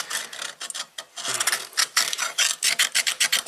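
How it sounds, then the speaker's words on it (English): A wheel hub knuckle on a Buick Enclave is scraped and cleaned out by hand, with a quick run of rasping, gritty strokes close by, irregular at first and then settling into a fast rhythm, with no voices. "you want to clean out all of the nastiness out of the actual knuckle,"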